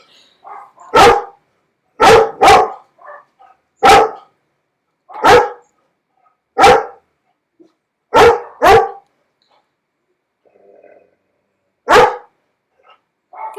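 A dog barks in short, sharp bursts, about ten loud barks spread across the stretch, often in quick pairs separated by silent pauses, close to the listener with no talking.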